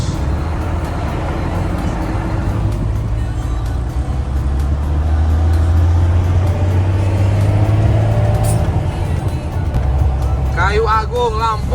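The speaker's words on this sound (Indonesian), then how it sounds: "Ya, angkot lewat terus." Minibuses (angkot) and other traffic rumble past on a busy road, heavy low engine noise swelling as vehicles go by, with a brief tonal horn-like sound near the end and people talking faintly.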